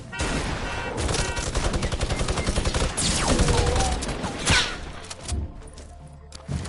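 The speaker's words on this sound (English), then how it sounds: "That's a mini gun" A minigun in a video game fires in long rapid bursts, a dense buzzing rattle of shots with a few heavy thuds and impacts, loud and close, tapering near the end.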